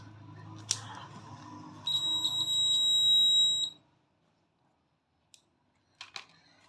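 A short electronic buzzer tone from a battery-powered hobby circuit sounds for about two seconds after a click, then cuts off into quiet with a few faint handling clicks.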